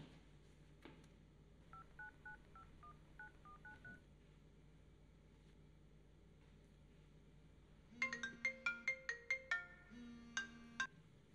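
Keypad dialing tones beep in a quick irregular sequence, then after a pause a telephone ringtone plays as a bright repeating melodic pattern of short notes, with no voices.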